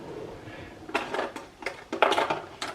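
Cutlery clinks and rattles in a kitchen as a teaspoon is fetched for spooning mango chutney, several short metallic bursts spaced unevenly, close and moderately loud, with no talk.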